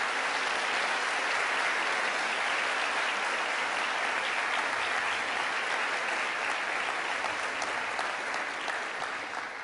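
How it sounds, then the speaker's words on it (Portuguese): A church congregation applauds its pastor at an evening service, loud continuous clapping that fills the room steadily for nearly ten seconds and fades slightly at the end. "salva de palmas para o seu pastor querido"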